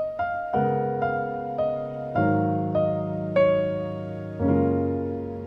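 Sustained piano chords ring under a slow single-note melody, a few notes layered over held harmony, played alone without voices.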